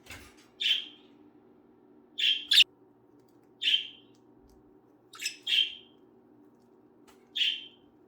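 Pet budgies chirp in short, bright bursts, about seven spaced calls over several seconds, close and clear above a low background hum.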